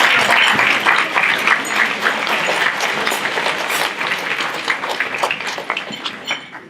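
Round of applause from an audience at an evening honoring benefactors, a loud, lively clatter of many clapping hands that holds steady and then thins out and fades near the end, with no talk.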